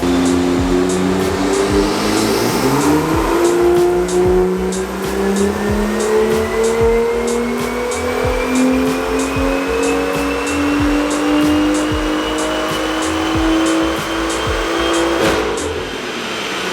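A bolt-on BMW M2 track car with an intake and downpipe revs hard on a dyno, its engine pitch climbing steadily through a long, loud pull before dropping off near the end, with no voices.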